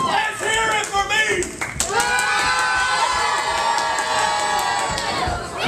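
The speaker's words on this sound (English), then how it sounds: "crowd's just picked up out here" A crowd at an independent wrestling show cheers loudly and continuously, with shouts, whoops and scattered claps throughout, and voices rising out of the noise.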